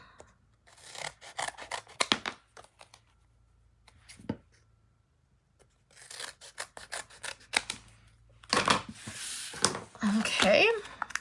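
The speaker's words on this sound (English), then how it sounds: "And we're going to cut this foam down." Scissors snip through craft foam for a handmade Stampin' Up card, a few close, bright cutting rasps in separate bursts with short pauses between, and a voice talking near the end.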